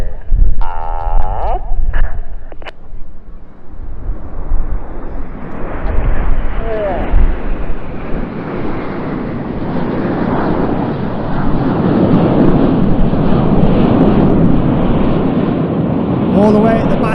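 Red Arrows jets in formation at an airshow display, a rising roar that builds from quiet into a sustained loud rumble, with a commentator talking over it throughout.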